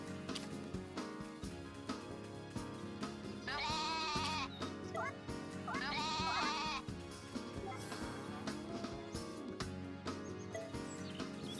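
Goat bleating in the farming video game Story of Seasons: A Wonderful Life, two wavering bleats over steady game background music.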